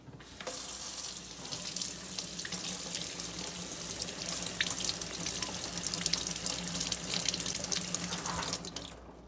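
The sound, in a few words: coin washed off under sink tap water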